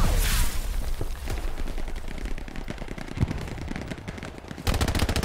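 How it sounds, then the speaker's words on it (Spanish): Rapid automatic gunfire in the World War II shooter Hell Let Loose, a dense continuous rattle of shots at close range, swelling louder at the start and again at the end. "Me disparan por detrás, tío"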